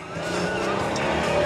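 A 2001 Nissan Maxima pulls away hard from a dead stop, its engine note building steadily and loudly with a faint tire squeal as it accelerates, close and continuous.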